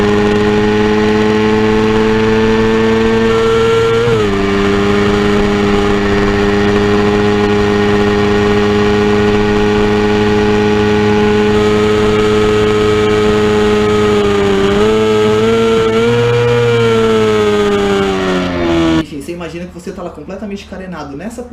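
A SuperBike Brasil racing motorcycle on track holds a loud, sustained high-revving whine with brief pitch shifts as it changes gear, then cuts off abruptly near the end.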